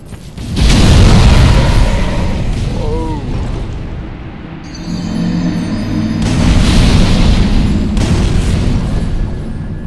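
A heavy booming explosion erupts in the video game Dark Souls 3, a loud burst followed by a long rumbling, crackling tail, with a second swell of roaring blast noise later on.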